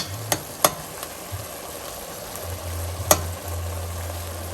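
Minced meat frying in a pan for a pasta sauce, a steady soft sizzle broken by a few sharp clicks of a utensil turning the meat, with a low hum underneath and no talking.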